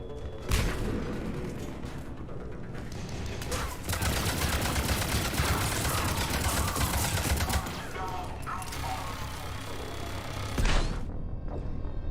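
Turret gunfire in Mass Effect 3 from the Legendary Trilogy: dense, continuous rapid fire with booming impacts and mechanical clatter, loud and sustained throughout.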